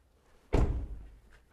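A Mazda6e car door swinging shut in a single solid thunk, close and fairly loud, followed by a brief low rumble as it settles, with no voices.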